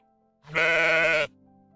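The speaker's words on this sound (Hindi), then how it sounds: "जैसे गोट शीप मिमियाते हैं" A goat or sheep gives a single clear, close bleat lasting under a second, rising out of near silence and then fading into faint background noise.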